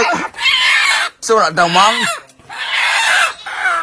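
Chickens cluck and squawk close by in a flurry of bursts amid voices talking, tied to a stolen chicken.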